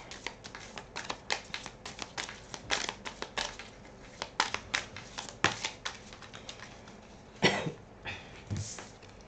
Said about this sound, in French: Je vais commencer par tirer deux cartes du Lightstir Tarot pour avoir un petit peu la tendance.